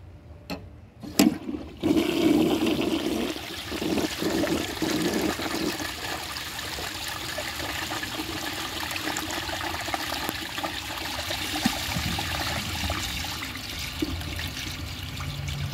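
A Cadet toilet flushes away dish soap foam: a few sharp clicks of the handle, then a loud, steady rush of swirling water that keeps running and trickling without gurgling to the end.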